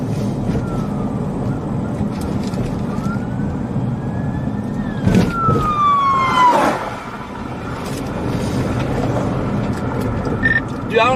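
Police cars race past during what may be a high-speed chase near an accident in Nebraska, their sirens wailing and sweeping in pitch as they pass close by over road and engine noise, with excited talk in the background.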